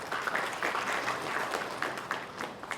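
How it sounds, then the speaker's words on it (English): Audience applause for the organizers at a tech event, a steady, moderately loud patter of many hands clapping throughout. "a big round of applause for the organizers to begin with"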